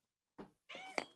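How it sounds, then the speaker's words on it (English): A house cat meows twice nearby, a short faint call and then a longer one, with a small thump under the second meow. "Sorry, that's my cat."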